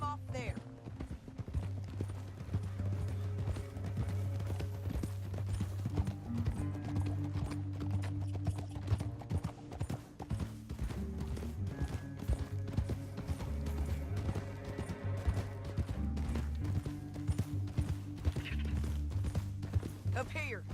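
Hooves clip-clop steadily on horses riding through a canyon in the video game Red Dead Redemption 2, layered over low droning music with occasional snorts and whinnies.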